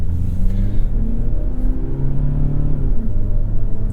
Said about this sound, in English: you are in charge mode right now. That's why it's making a racket.